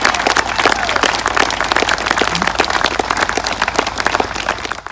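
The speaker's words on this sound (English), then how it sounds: "Can we please give 17 new citizens a big round of applause?" A civic ceremony crowd gives a round of applause to seventeen new citizens on Australia Day in Dubbo, loud and continuous clapping that runs for about five seconds with no talking.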